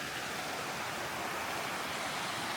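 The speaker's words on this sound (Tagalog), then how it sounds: "Meron din ditong umaagos-agos na tubig." Running water flows steadily in a snowy winter setting in Kyrgyzstan, a constant broadband rush with no breaks and no voices over it.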